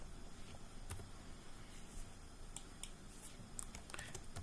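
Someone types student names on a computer keyboard in a quiet room, producing sparse, soft key clicks in irregular bursts. A few sharper taps stand out among them.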